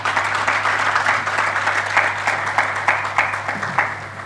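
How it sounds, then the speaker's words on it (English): A room full of people applauds panelists at a policy dialogue, steady dense clapping holding at an even level throughout, with no voices over it. "I think they deserve really another round of applause"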